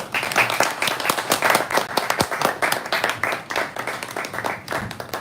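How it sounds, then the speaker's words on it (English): An audience claps for two poets at a poetry reading, a lively round of many hands with crisp individual claps close by, continuing steadily for several seconds. "let's give them both one more round of applause."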